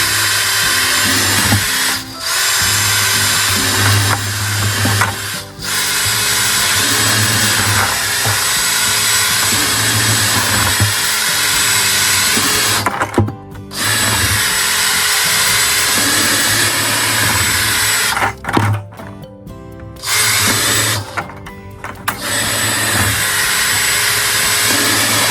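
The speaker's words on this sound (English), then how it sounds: "now then I'm just gonna drill some holes" A power drill whirs loudly and almost continuously while drilling drainage holes, stopping briefly a few times before revving up again, with no voices.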